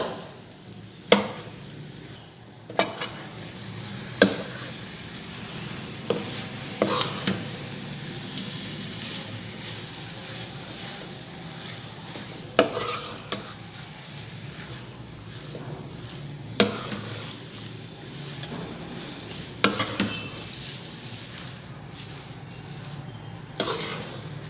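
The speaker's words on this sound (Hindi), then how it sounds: "खोया ऐड करके इसको अच्छी तरह मिक्स कर लें।" Grated carrots and khoya being stirred and fried for gajar halwa, a steady soft sizzle running throughout with repeated scraping stir strokes every few seconds, close and alone without talk.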